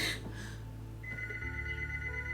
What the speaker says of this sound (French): Mais attends, c'est le téléphone de papa.